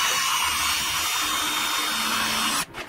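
An electric screwdriver with a speed limiter drives screws in a sustained high-pitched whir that ends abruptly near the end, with no voices.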